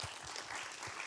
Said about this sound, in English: let's give a round of applause for Akhil